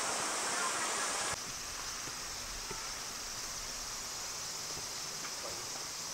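Minoh Waterfall and its river in Osaka rush with a steady, even roar of flowing water that drops slightly in level early on and then holds constant, with no voices.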